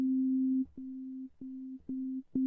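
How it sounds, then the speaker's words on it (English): A steady pure electronic sine-wave tone from an OP·A FM synthesizer's basic preset repeats in four or five sustained notes, each cut by brief clicks, with no voices. "So this is just the basic preset, so it's just a sine wave."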